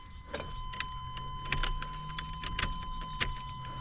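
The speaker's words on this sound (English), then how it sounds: "For that we gotta key the truck over into ignition." Keys jangle and click as a key turns in a truck's ignition to power the turn signals, several sharp metallic taps over a low steady hum, close and fairly quiet.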